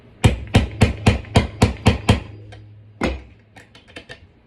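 A hammer drives nails into wood on a farmhouse tray in a steady run of about ten sharp, close blows, then one more hit and a few lighter taps.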